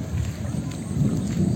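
Thunder rumbles loud and close through a village rainstorm, a deep continuous roll layered over the steady wash of falling rain for the whole stretch.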